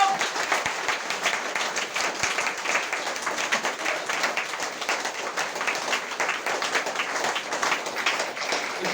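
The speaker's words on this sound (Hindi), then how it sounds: "जबरदस्त ताली होनी चाहिए।" A large crowd at a business motivational talk bursts into dense, sustained applause, many hands clapping steadily and fairly loud for the whole stretch, with no single voice standing out.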